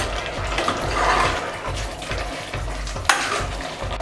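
Masala being stirred into pork curry frying in a pan, Coorg style, with a steady sizzle and repeated scraping strokes of a spoon against the pan, plus one sharper clink near the end.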